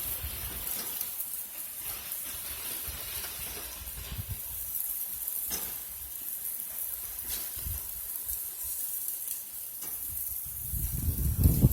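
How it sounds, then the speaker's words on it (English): Squash spears sizzling on the top rack of a barbecue grill, a steady, close hiss and crackle that lasts throughout, swelling louder at the end, with no voices. "I'm just going to put these on the top rack of the grill"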